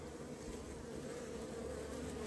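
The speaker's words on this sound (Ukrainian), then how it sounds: "Бачите, бджоли смирні, смирні." Steady, close buzzing of many calm honeybees at a hive, a continuous droning hum with no voices.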